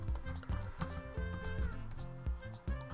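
Steady typing on a computer keyboard, a fairly loud, close run of rapid clicks with brief pauses and no voice.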